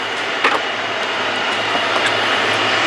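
A naturally aspirated, bridge-ported 13B six-port rotary engine in a Mazda RX-7 FC3S runs steadily nearby, giving a continuous droning idle with a few brief louder blips and no talking.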